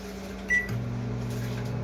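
A microwave oven runs while a banana cake bakes inside it, its turntable turning under a steady low motor hum, broken by a short bright tone and a slight shift in the drone.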